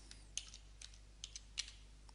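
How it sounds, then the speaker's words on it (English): Soft keystrokes on a computer keyboard during a search in Adobe Reader, a short, irregular burst of light clicks, close but quiet. "and type in the word John"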